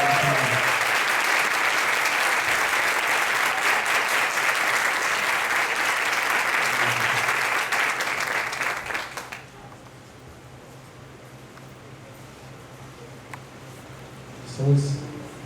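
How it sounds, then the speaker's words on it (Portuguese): Loud, sustained applause fills a church for about nine seconds, then fades out into quiet room tone with a faint thump near the end. "Gostaria de uma salva de palmas para o Senhor Jesus,"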